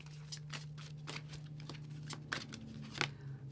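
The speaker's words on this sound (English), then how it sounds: "it's a little bit hard to shuffle because it's circular" A circular tarot card deck is shuffled by hand, giving a quick series of soft papery riffles and slaps, close and fairly quiet, over a low steady hum.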